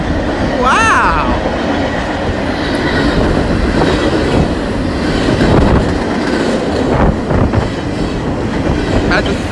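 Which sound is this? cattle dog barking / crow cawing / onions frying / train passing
train passing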